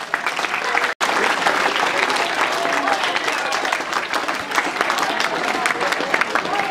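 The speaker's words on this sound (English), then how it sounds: "Give me a round of applause." An audience at a youth football club's award evening comedy hypnotist show breaks into loud, steady clapping with some crowd noise, and a voice talks over it.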